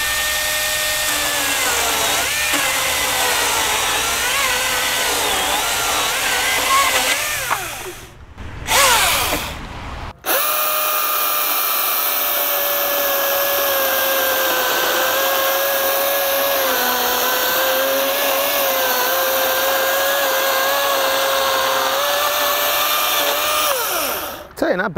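A Milwaukee cordless tool running on two 12-volt batteries makes a cut, a loud steady high-pitched whine that stops briefly around the middle and then resumes and continues to the end; some background talk may be present.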